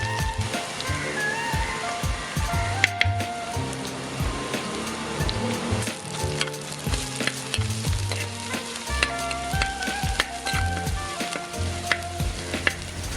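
Shallots, ginger and round green chilies fry in hot oil for a Kerala-style sardine curry, a dense, continuous crackling sizzle under steady background music.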